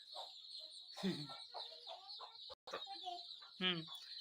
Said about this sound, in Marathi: ही आपली कोंबडीची पिल्लं